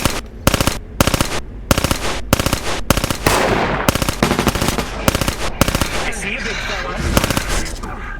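Rapid bursts of gunfire in a VR roleplay video game, loud, close sharp shots firing in quick repeated volleys across the whole stretch with only brief gaps between bursts.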